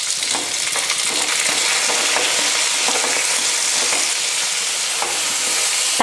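Tomatoes frying with onion and garlic in a pan for fish curry, a loud continuous sizzle with a few stirring scrapes, no voices.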